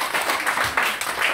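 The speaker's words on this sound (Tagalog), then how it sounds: "Palakpakan natin si Yahweh" Scattered clapping from a church congregation at a Filipino El Shaddai worship gathering in Macau, in irregular bursts of hands that rise and fall over a short stretch, with faint voices mixed in.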